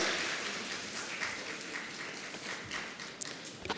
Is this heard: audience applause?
yes